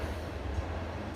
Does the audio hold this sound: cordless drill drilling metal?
no